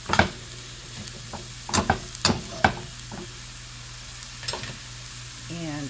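Garlic and herb pasta sauce stirred in a pan, a low steady simmer broken by a few distinct scraping strokes and clicks of a utensil against the pan, fairly close.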